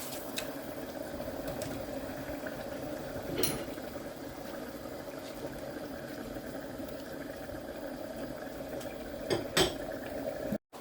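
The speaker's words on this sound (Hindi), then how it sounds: "ये पानी बॉयल हो चुका है, अब हम चावल ऐड करेंगे।" Water at a boil in a cooking pot as rice is added for chana chawal, a steady bubbling hiss broken by a few sharp metallic clinks of utensils against the pot.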